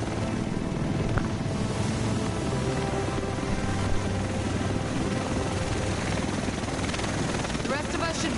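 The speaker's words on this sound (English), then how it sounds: "The rest of us should be in this chopper." Helicopter in a video game set over Manhattan, a steady rotor drone holding at a constant level throughout with faint background voices underneath.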